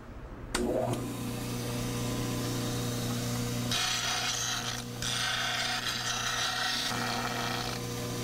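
A dental plaster cast is trimmed at an angle on a model trimmer, a continuous grinding, rasping whir with heavier scraping surges as the cast is pressed to the wheel, close and steady.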